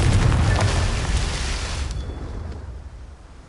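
A Confringo blast spell goes off in Hogwarts Legacy: a loud fiery burst up front that rumbles and slowly fades away over a few seconds.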